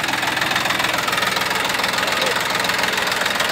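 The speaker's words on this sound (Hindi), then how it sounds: "यहाँ हमारे किसान भाई ट्रैक्टर चला रहे थे" A Massey Ferguson 241 DI tractor engine runs on a farm, a steady close diesel chug with knocking pulses under continuous noise and no pauses.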